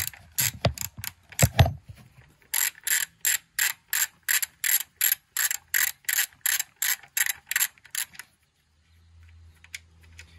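A hand ratchet loosens a 10 mm bolt on a Nissan 350Z VQ35HR engine, opening with a few irregular clicks, then a steady run of about fifteen sharp, evenly spaced clicks up close before stopping.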